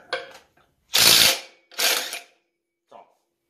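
Socket ratchet working the flywheel nut on a 1970s Ski-Doo Everest snowmobile: two loud close bursts of rapid clicking, each about half a second long, then a faint short click, with brief vocal sounds at the start.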